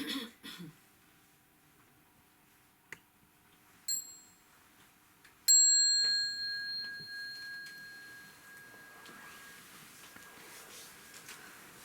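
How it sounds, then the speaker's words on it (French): A small mindfulness bell is struck during a quiet meditation session, ringing out with a clear tone that decays slowly over several seconds, after a few soft knocks and a brief cough in the room. "son de la petite cloche"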